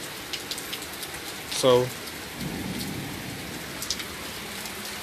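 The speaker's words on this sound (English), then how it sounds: "while it's raining hard and stuff like that, we gotta do the show." Heavy rain falls hard in a steady wash of patter, while someone speaks briefly over it and a few sharper drips and taps stand out.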